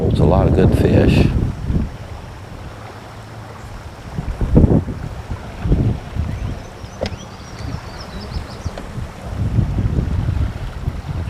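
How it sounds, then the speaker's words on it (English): Wind blows over a river during drift boat fishing, rumbling and buffeting the microphone in gusts, loud and close, while someone talks over it. "Got a pretty good wind blowing us back upstream"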